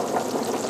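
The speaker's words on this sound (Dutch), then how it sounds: "Hamburgers, hoe lang bak je dit?" Marinated hamburgers fry in a pan, a steady soft sizzle and crackle continuing evenly through the brief moment with no talking.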